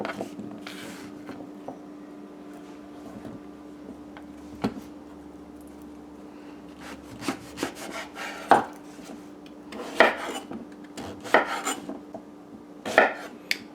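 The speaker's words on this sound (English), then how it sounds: "So now we're going to cut them up into the sizes we want." A knife chops breadfruit into pieces on a board. The cuts are sparse and irregular, each a sharp knock that grows louder toward the end, over a faint steady hum.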